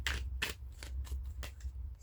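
Tarot cards being shuffled by hand, heard as a few close, crisp riffling bursts spaced about half a second apart, quiet and alone.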